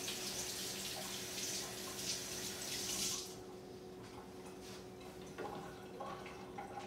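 Running tap water splashes steadily over hands in a kitchen sink, loud and close for about three seconds before the flow drops to a softer trickle with light clatter.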